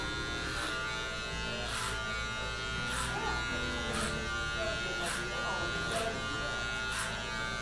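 Electric hair clipper buzzing steadily while cutting hair clipper-over-comb during a bald fade, with repeated rhythmic strokes and someone talking over it.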